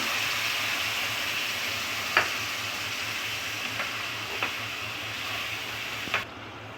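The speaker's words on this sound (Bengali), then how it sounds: "এবারে আমি জল দিচ্ছি। একটু জল দিচ্ছি।" Water hits fried spices in a pan for potol kofta curry, giving a steady, even sizzling hiss with a few faint clicks and pops and no voices.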